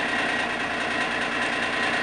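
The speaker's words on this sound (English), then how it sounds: "That rattling you're hearing right now is the heat shield for the fuel tank" A fuel tank heat shield rattling on a truck with an idling Cummins engine, a dense, even rattle over the steady engine drone, close and constant throughout.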